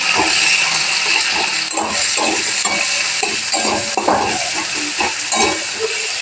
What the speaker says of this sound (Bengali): কড়াইয়ে তেল দিয়ে দিয়েছি, গরম হয়ে গেছে। এবার পেঁয়াজ টমেটো দিয়ে দেবো।